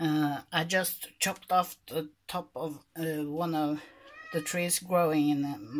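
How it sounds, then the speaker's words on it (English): A cat meows and complains repeatedly indoors, its drawn-out cries mixing with and overlapping a person talking throughout. "That's my cat complaining about something."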